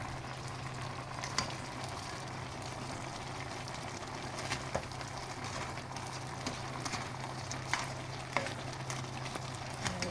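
Shrimp heads fry in a pan with a steady, dense sizzle and spattering oil, occasional sharper pops and scraping stirs over a continuous crackle.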